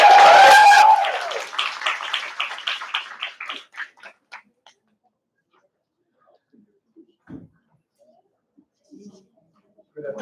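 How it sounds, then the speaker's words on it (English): Applause from a seminar audience welcoming a session host at a college graduation project event, a loud dense burst at first that thins into scattered fading claps over several seconds, then near silence with a few faint stray sounds. "Let's give him a warm round of applause."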